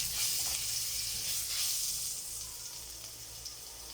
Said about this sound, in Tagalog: umpisahan na po natin ang ating paggigisa. Siyempre, unahin po natin yung ating ginger